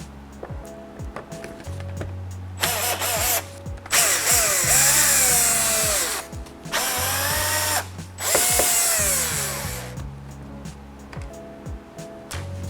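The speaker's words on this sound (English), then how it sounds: "we're going to be doing so with a power drill" A power drill backs Phillips screws out of the cargo lights on a third-generation Toyota Tundra. The motor whines in several bursts of a few seconds each, rising and falling in pitch, and ratcheting clicks fill the gaps between the runs.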